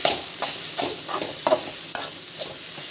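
Beetroot and potatoes fry in a pan on high heat, a close hissing sizzle with rhythmic stirring scrapes every half second or so, and no one speaking.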